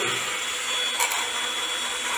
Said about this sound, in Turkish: Şimdi kızım matkap ucunla bunu delsin bakalım.